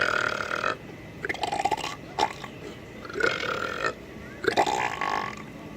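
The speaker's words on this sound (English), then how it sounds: "you get this really gurgly, disgusting, bubbly sound out of it, as opposed to your standard belch" Gurgly, bubbly belch set against a plainer, clearer standard belch: several separate wet bursts with short pauses between them, close and fairly loud.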